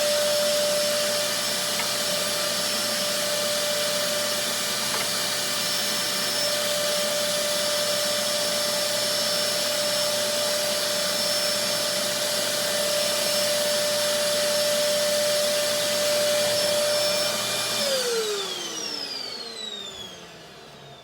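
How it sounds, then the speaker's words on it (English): A canister vacuum cleaner clears guitar sanding debris with a steady, loud whine and airy roar that holds for many seconds, then powers down, its pitch sliding away as the motor winds off. "And then you just vacuum it off and it's not clogged."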